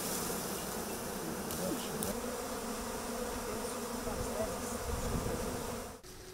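Steady buzzing of bees fills the air, a continuous drone close by, with a brief knock near the end.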